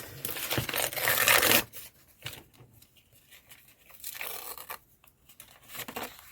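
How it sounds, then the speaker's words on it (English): Paper tearing for a junk journal, a long loud rip followed by several shorter, softer tearing and crinkling bursts, close up with no talking. "It's not going to rip the way I want it to rip."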